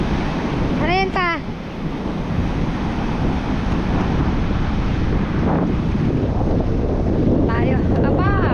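Strong river current rushing steadily and close, a broad continuous roar of water with wind buffeting the microphone; brief chirping calls break through near the start and again near the end.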